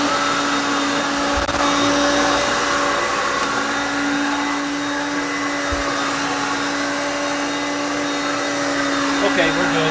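A Hoover Concept One vacuum cleaner runs near its maximum on high speed under carpet load, a loud, steady motor whine with a constant tone and a faint airy hiss that holds unchanged throughout.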